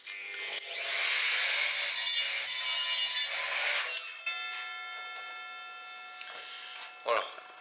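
Evolution R255 SMS radial miter saw slicing through a clamped piece of wood: the motor spins up, the blade whines through a steady cut for about three seconds, then winds down with light clicks and a brief clatter at the end.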